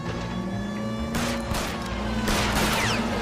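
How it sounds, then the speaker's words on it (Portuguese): Gunfire in the LA Noire video game during a car chase, shots aimed at a fleeing car's tyre: a few sharp bursts over a steady engine drone and music, fairly loud. "é só atirar no pneu"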